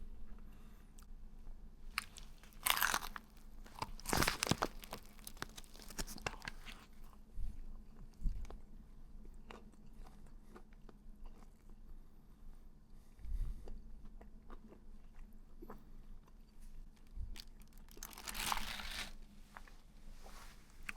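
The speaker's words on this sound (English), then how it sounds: "sorry, I'm chewing my mouth full" Quiet close-up chewing and biting on a beef roti bought at TRX Mall in Kuala Lumpur, with soft crunches and mouth clicks scattered over a faint room hum and no talk.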